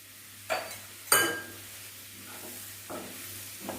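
Mushrooms tossed into a hot pan for a pepper roast, a few sharp clinks of a spoon against the pan over a soft steady sizzle, close and fairly quiet.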